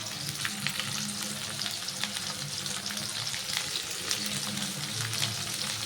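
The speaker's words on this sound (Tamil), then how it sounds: "ஹை ஸ்பீடில் வச்சிங்கன்னு வெங்காயத்தை நல்லா ஃப்ரை பண்ணிக்கோங்க" Onions frying on high heat for vegetable fried rice, giving a continuous dense sizzle at a steady, fairly loud level with no pauses.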